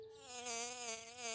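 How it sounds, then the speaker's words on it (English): A close, steady honeybee buzz with a bright, nasal drone that wavers slightly in pitch, alone against quiet. "That's just a honeybee, George."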